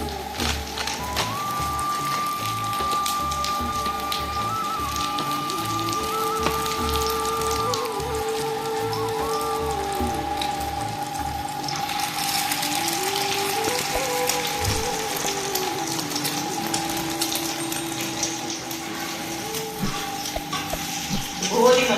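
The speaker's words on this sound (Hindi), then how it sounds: "शामी कबाब फ्रिज से निकाले और फ्राई कर रही" Shami kebabs frying in a pan give a continuous close sizzle and spatter, with tonal household noise and background voices running through it.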